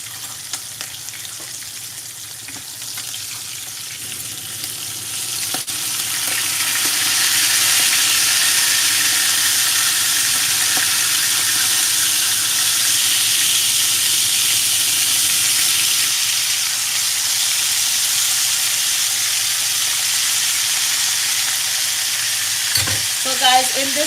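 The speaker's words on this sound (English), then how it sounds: "So I'm going to turn my fish." Fish frying in a pan with sautéed papaya, turned partway through, a steady close sizzle that swells after the turn and holds loud to the end.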